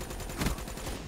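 Rapid gunfire in the video game Call of Duty: Black Ops III beta, a dense, steady burst of shots lasting about a second with a slightly louder swell in the middle, heard alone without talk.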